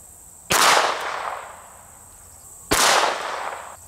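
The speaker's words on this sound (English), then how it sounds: "We're gonna start out with a 22 long rifle and we'll be using a Ruger LCR 22." Two loud, sharp shots from a Ruger LCR .22 Long Rifle revolver fired at a boat anchor outdoors, about two seconds apart, each cracking close and ringing off into a decaying echo.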